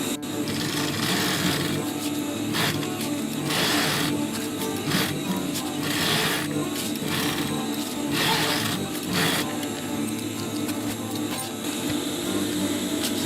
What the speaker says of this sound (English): I will do a box and cross shape stitch.